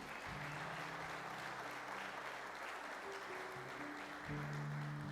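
Congregation applause at a Jaraguá do Sul church worship service, a steady wash of many hands clapping throughout, with organ or keyboard chords sustained underneath.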